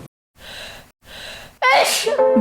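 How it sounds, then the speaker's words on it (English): A single loud sneeze close up, preceded by two quick breathy inhales building up to it. "Because people sneeze."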